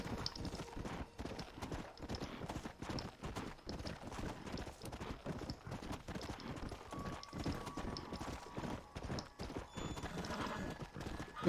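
Horse galloping and neighing in the Western video game Red Dead Redemption: Undead Nightmare, rapid rhythmic hoofbeats throughout with occasional whinnies, plus faint game sound effects near the end.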